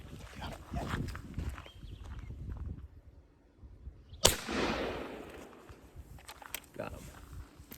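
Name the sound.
gunshot at a rabbit while hunting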